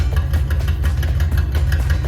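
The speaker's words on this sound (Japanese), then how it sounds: "もうちょっとエンジン温めてから。 いいサウンドだよね。" A classic Nissan Skyline Hakosuka idles while warming up, a steady low rumbling engine heard close with even, slightly lumpy pulses.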